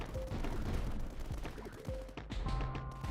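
Mortars fire in the Tower Dominion video game as a dense flurry of booming blasts and crackling impacts, layered under steady game music and background noise.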